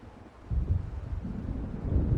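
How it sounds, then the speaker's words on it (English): A low, rolling rumble of thunder from an approaching storm in Alan Wake Remastered swells after a quiet start and stays heavy and distant, with no talk over it. "It seems there's a storm coming."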